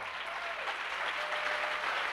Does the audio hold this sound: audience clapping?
yes